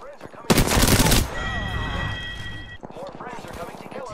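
Havoc rifle gunfire in Apex Legends, a dense burst of rapid automatic shots lasting under a second, followed by ringing game effects and mechanical clatter, with players talking over it.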